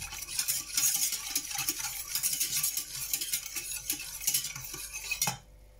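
Milk and sugar stirred together in a pot for a chocolate dessert, with a steady scraping swish of a utensil against the pot, repeated clinks and taps of metal, close and fairly loud, stopping abruptly near the end.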